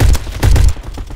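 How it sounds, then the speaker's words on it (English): Gunfire in the Roblox shooter Bad Business: two or three heavy, booming shots land close and loud in quick succession, followed by fainter thuds as the action continues. "somebody shot me"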